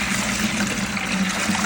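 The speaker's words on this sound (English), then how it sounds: "Pour the water in." Mixed saltwater for a reef aquarium pours steadily into a container, a continuous close trickling and splashing that runs unbroken and alone.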